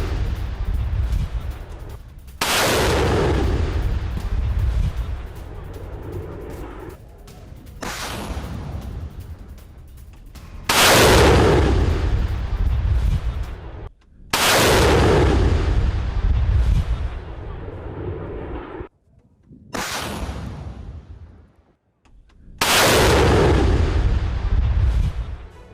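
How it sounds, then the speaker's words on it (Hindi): A multiple launch rocket system fires missiles at a war zone: five heavy blasts, each a loud roaring whoosh that swells and slowly fades, separated by brief quiet gaps. "मल्टी लॉन्च रॉकेट सिस्टम से मिसाइलें दागी गई।"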